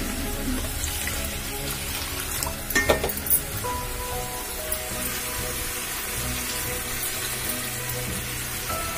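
Sizzling and frying from a pan of mustard spice paste with turmeric after a little water is added, a steady crackling hiss throughout with a brief louder splash and stir near the start.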